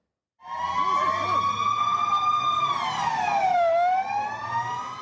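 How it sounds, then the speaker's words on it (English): A police siren wails loudly and close on a Tel Aviv street during a manhunt, holding a long rising tone before sweeping down, over a low rumble of traffic. "Police sirens blaring in Israel's commercial capital in a massive manhunt"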